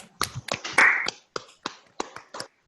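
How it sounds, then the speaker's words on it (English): Scattered, sparse claps and taps from an online audience just unmuted on a video call, a few separate sharp hits spaced irregularly with gaps of silence, one brief louder burst near the start. "I'm going to unmute all of you so you have the opportunity to clap"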